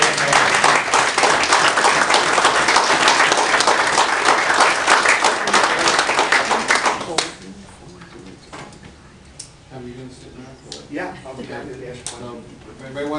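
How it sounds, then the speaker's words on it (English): Audience applause for the speaker Tom at a Lake County Liberty Coalition meeting, loud sustained clapping for about seven seconds that stops abruptly, followed by someone talking in the room. "give Tom another round of applause"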